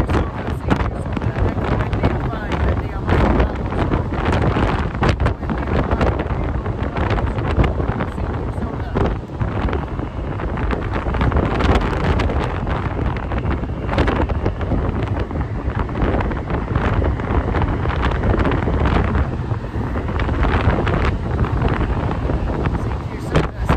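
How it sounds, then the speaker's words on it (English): Strong mountain wind buffets the microphone in continuous loud roaring gusts at a summit radio-operating site, with a voice faintly mixed in. "it's very, very windy"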